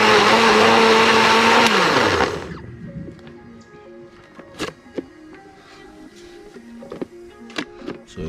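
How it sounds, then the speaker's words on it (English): A blender runs loud and steady on water and tomato sauce ingredients for about two seconds, then winds down and stops, followed by quiet kitchen clinks and taps. "So I'm just gonna run it through the blender."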